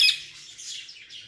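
A pet peacock gives a short, shrill call up close, one sharp cry at the start followed by fainter squawking tails.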